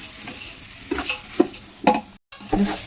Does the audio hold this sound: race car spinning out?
no